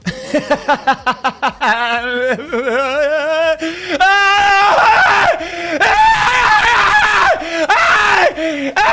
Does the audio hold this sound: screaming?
yes